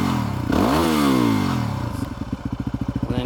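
A Yamaha WR250R motorcycle engine starting, a rising starter whine that catches into a loud, close, rhythmic idle pulsing.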